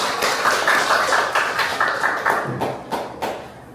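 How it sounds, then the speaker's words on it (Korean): Audience applause at a local history symposium greets a city council member, a steady patter of many hands clapping, moderately loud, tapering off toward the end. "박수로 앞으로 모셔보도록 하겠습니다"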